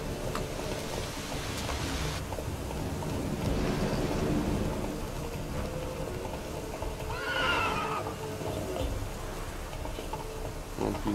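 Roach, the horse in The Witcher 3, lets out a clear whinny midway, standing out over a constant rainy game ambience and soft hoof clops.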